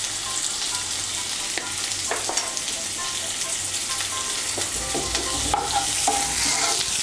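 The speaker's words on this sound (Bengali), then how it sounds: "নুন আর হলুদটা ভালো করে মিশিয়ে নেব। মিশিয়ে নিয়ে পেঁপেটাকে আমি হালকা একটু ভেজে নেব।" Papaya pieces being stirred with salt and turmeric in a frying pan for Bengali pepe posto, a continuous close sizzle broken by repeated scraping strokes of a spatula, with no talk.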